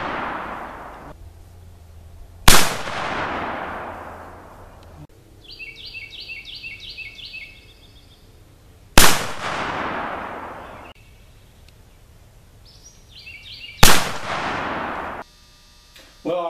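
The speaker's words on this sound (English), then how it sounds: "Once again, we're shooting the Super Walker, now with a red dot sight." A Super Walker black-powder revolver loaded with 777 powder and 200 grain bullets fires three loud booming shots, spaced several seconds apart, each with a long rolling tail outdoors, while faint birdsong chirps between them.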